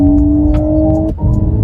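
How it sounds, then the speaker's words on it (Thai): A steady synthetic race-car engine hum from an Ora 07 electric car, with strong tonal drone that drops abruptly near the end, then resumes at a lower pitch, loud and continuous. "นี่คือเสียงรถแข่ง"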